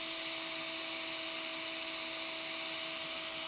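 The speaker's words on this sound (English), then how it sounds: "You're going to screw through with the provided drill bit" A power drill with a drill bit bores slowly through a cabinet door, giving a steady, continuous whine with a constant tone and no breaks.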